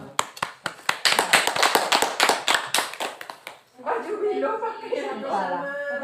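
Students and a teacher in a school classroom clap in sharp, fairly regular beats for a few seconds, then the claps stop and a voice starts talking over a quieter room.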